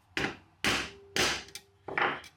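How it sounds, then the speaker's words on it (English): A hammer drives an eyelet setting tool into a circuit board resting on a metal plate, setting eyelets with four loud, separate, sharp metallic-wooden whacks spaced about half a second apart. "Give it 2 good whacks."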